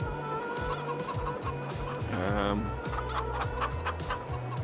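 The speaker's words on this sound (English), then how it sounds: "so that's our little chicken area, little chicken factory, I should say." Chickens clucking and calling steadily in a busy chicken area, a dense flock chatter with a rising squawk midway, all over a constant mechanical hum and background din.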